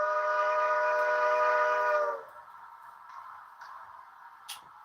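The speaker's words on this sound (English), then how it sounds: "The most generic whistle in HO scale." A Baldwin three-chime steam whistle on an HO scale model train blows one steady, loud chord for about two seconds, then cuts off, leaving quiet layout sounds and faint clicks.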